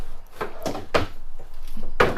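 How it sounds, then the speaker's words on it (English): Wooden drawers in an RV kitchen slide open and shut several times in quick succession, each with a short scrape and a knock, close by and without voices. "Here are all your drawers."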